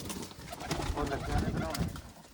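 Pigeons and their chicks coo softly in a coop amid dense, noisy background rustle, with a murmur of voices underneath.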